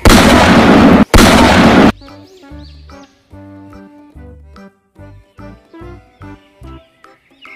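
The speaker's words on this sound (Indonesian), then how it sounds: "Wow, mainan tembak-tembakan. Pistol koboi." Two loud bursts from a toy cowboy revolver, close and harsh, followed by quieter tinkling, jingly clicks and short tonal pops from the toy.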